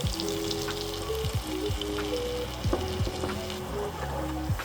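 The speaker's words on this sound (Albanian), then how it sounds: "Dhe do të skuqim 2 lugë miell." Two spoonfuls of flour frying in olive oil in a pan give a steady, crackling sizzle throughout. Tonal kitchen noise runs underneath, and no one speaks.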